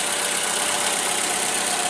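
A 2014 Toyota RAV4 XLE AWD with its 2.5-liter four-cylinder engine idling, a steady, loud, close broadband hum that stays even throughout with no voices.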